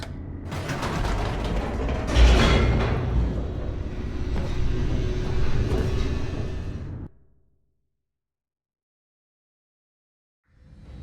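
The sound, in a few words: elevator descending in video game The Stanley Parable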